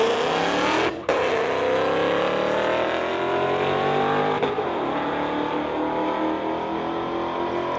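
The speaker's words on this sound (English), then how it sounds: "Keith Pletcher from North Vancouver driving the 2015 Model S, going up against Dave Clark, a Mission representative driving the 2022 Ford" A 2015 Tesla Model S and a 2022 Ford launch side by side down a drag strip. The loud, close roar rises steadily in pitch as they accelerate, with a brief dip near the start and no talk.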